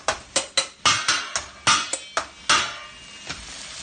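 A metal spoon strikes a cooking pan full of onions about a dozen times, hard and close, in an uneven rhythm of clanking hits that fade near the end.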